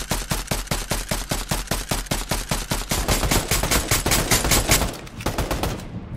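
Rapid automatic gunfire from the video game Fortnite rattles in a fast, regular burst of loud shots for several seconds, then thickens into continuous overlapping fire before a brief pause and a few more shots.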